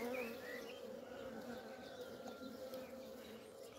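Honey bees hum steadily at an open hive while a beekeeper inspects the combs, a dense continuous buzz that stays constant throughout, with no talking.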